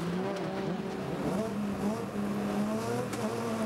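Andros Trophy ice-racing cars at Isola 2000 in 2010, engines droning steadily with rising and falling revs throughout, a loud continuous motor sound with no one speaking.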